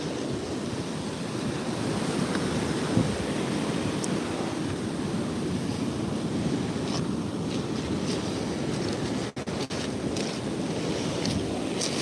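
Ocean waves crashing and rolling at sea, a continuous broad wash of surf with wind buffeting the microphone, steady and fairly loud for the whole stretch with no one speaking.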